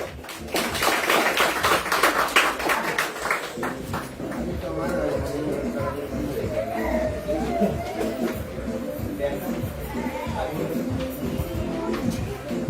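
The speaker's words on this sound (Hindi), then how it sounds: "जोर से तालियां।" Crowd clapping at a Silver Jubilee celebration, a dense burst of applause for the first few seconds that thins into scattered claps and murmuring under a voice speaking over a sound system.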